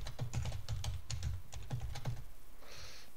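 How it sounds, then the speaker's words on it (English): A computer keyboard clicks in a quick, steady run of keystrokes as a password is entered, each press crisp and close, followed by a short soft rustle at the end. "Type in my password."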